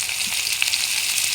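Oil frying in a pan after fish has been fried, before bottle gourd goes in, a dense steady high sizzle with tiny pops, close and constant.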